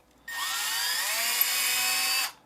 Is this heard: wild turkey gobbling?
no